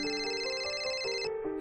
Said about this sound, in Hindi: एक दिन सूरज के दादाजी ने सूरज को फोन किया।